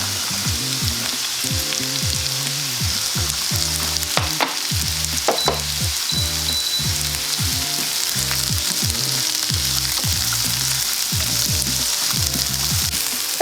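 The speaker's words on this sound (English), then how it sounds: "So I sauteed the carrot for a few minutes," Carrot and white onion sauté in a pan with a steady, loud sizzle and repeated scraping stirs, continuous throughout with no talking.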